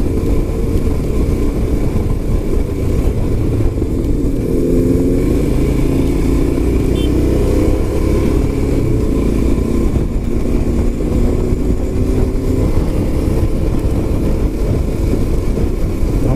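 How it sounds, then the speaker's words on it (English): Yamaha RD350 two-stroke motorcycles on a group ride, loud continuous engine drone with rising and falling revs and overlapping engine notes as they cruise along, no talking. "RD350 sounds awesome, man. The two-stroke engine has the beat sound."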